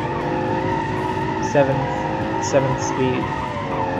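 Muscle car fitted with a V12 engine drifting, its tires letting out several sharp squealing skids over a steady engine drone, close and loud.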